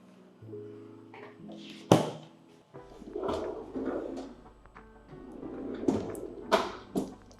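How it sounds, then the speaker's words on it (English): Freezer drawers on a Thermador refrigerator slide open and shut in a kitchen, with a few sharp thumps and clicks and soft rolling sweeps spread over several seconds, close and fairly clear, no talking. "And these are your freezer drawers."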